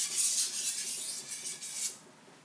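A knife edge is drawn in light, smooth strokes across a Shapton Ceramic Pro whetstone, a close, soft raspy scrape repeated several times without pause and then fading.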